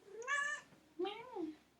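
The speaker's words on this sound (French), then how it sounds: "On est accompagné d'un chat" A cat gives two clear, close meows, the first rising and held, the second sliding up and down, in a quiet room.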